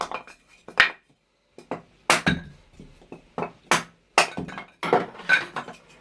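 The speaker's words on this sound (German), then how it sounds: "Nimmt mal Holz und hackt das." Firewood is chopped with an axe for a fireplace: a series of irregular, sharp, close chops and cracking splits with brief pauses between strikes.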